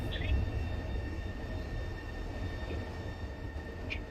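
Subway train car riding along in VtM Coteries of New York: a steady low rumble and rattle of the carriage with faint squealing tones, continuous and moderately loud throughout.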